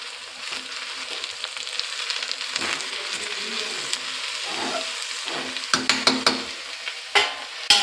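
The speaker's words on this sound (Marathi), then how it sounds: "फक्त एकच चमचा फिरवून ढवळून घ्यायचे आणि झाकण मारून ठेवून द्यायचे" Red amaranth greens cooking in a pot are stirred with a spoon over a continuous soft sizzle, followed by several sharp metallic clinks and taps toward the end, close by.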